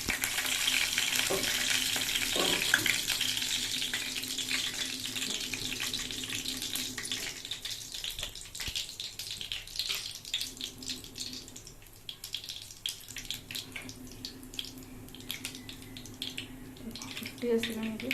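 Mustard seeds and cumin crackle and sizzle in hot oil in a pan, a dense steady spluttering close by, with a voice speaking over it at times.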